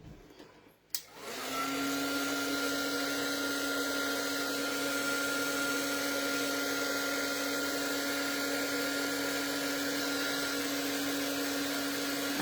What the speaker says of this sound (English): So I'm using my heat tool again. So this will make quite some noise.